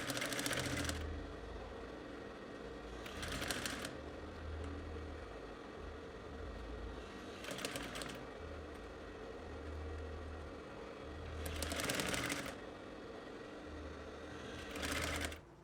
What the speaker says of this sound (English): I'll do the same thing for the main velvet fabric, sewing by 1/2 inch along the dart line.